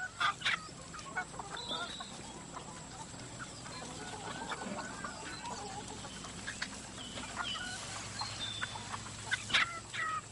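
Laying hens in a henhouse on an organic farm, clucking and calling steadily at a moderate distance over a constant background hum, with occasional louder squawks and no talking.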